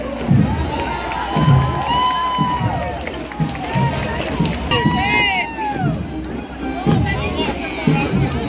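A parade crowd cheers at a city anniversary procession in Arapiraca, Alagoas, with steady loud shouting and children's voices, a lively babble of talk, and a few whistle-like rising calls throughout.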